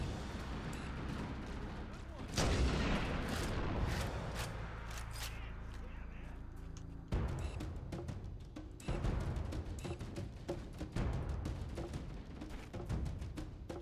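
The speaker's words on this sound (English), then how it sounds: "Big machine gun fire!" Bursts of machine gun fire in the video game Halo, loud and rapid with sharp onsets, broken by short pauses and heavy booms, played under ongoing game noise and some talk.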